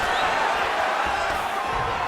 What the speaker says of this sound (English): Oh, nice pop there from the crowd as he finally gets the takedown